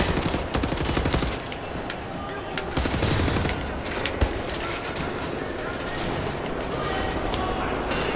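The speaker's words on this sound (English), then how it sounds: "Going back to the best gun in the game, aka the AN-94" Sustained automatic fire from an AN-94 assault rifle in the shooter game Wolfenstein: The New Order, rapid bursts rattling almost continuously and loud for the whole stretch, with a voice talking over the shooting.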